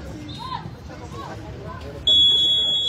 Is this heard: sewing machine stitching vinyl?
no